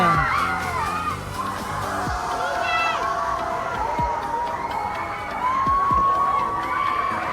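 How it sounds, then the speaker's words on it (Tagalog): Riders on a pirate ship swing ride at a seaside mall amusement area scream and shout together in long rising and falling waves, a loud, continuous crowd of voices with whoops layered over the noise. "Grabe yung hiyawan at sigawan, no?"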